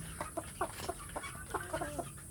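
A free-range village hen clucks softly and repeatedly while getting ready to lay an egg, a steady run of short, fairly close clucks over faint background noise.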